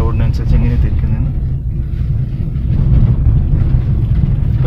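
A car engine pulls uphill in third gear with the clutch fully released and the accelerator pressed, giving a steady, loud low rumble from inside the cabin while someone talks over it.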